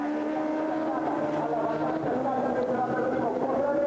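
Racing sidecar outfits with Suzuki and Yamaha engines roar past at the 2001 FIM Sidecar World Championship at Monza, a loud, steady buzzing engine drone that shifts pitch slightly, with commentary talk over it.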